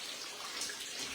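The last of the rinse water drains out of a freshly cleaned dairy bulk tank on a farm, a steady, close, even rushing and trickling wash with no talking.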